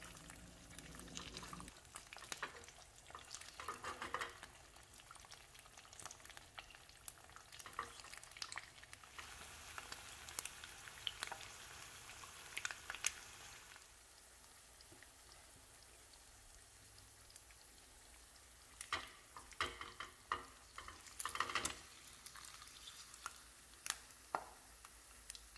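Two large eggs fry over low heat in oil in a pan, giving a soft, continuous sizzle with scattered pops and crackles and a few louder spatters.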